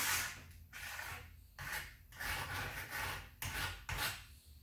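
A file rasps along steel ski edges to clear burrs, repeated back-and-forth strokes about every half second to second, close and fairly quiet with brief gaps between passes.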